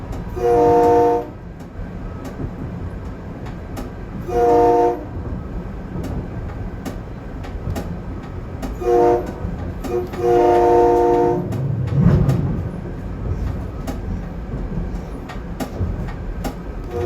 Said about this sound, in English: A lot of railroad crossings to blow the horn for here.